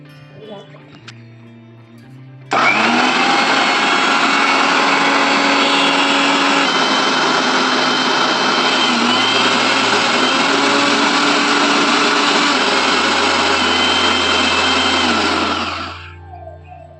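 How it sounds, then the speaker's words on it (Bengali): An electric mixer grinder pulverises chopped pineapple into a chutney paste, starting abruptly into a loud, steady whirring roar that holds for about thirteen seconds before winding down, with faint tones before it begins. "ছোট ছোট করে কেটে এখন আমি মিক্সির মধ্যে পেস্ট করব।"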